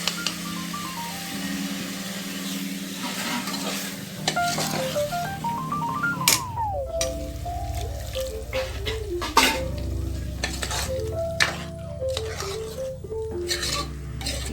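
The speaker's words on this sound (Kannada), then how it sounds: "ಇದೆಲ್ಲ ಚೆನ್ನಾಗಿ ಫ್ರೈ ಆಗಲಿ ಎಣ್ಣೆನಲ್ಲಿ." Chicken frying in oil with masala and tomato paste for chicken gravy sizzles steadily while a spoon clinks and scrapes the pot in irregular strokes. A tonal melody plays throughout, and there is no speech.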